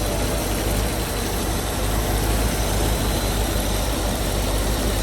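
A Land Rover Discovery's Rover 3.9 V8 injection engine idles on LPG, a steady, even broadband rumble heard close up under the bonnet.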